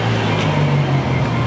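A four-cylinder car engine drones steadily at a low, even pitch, close and fairly loud, with no talk over it.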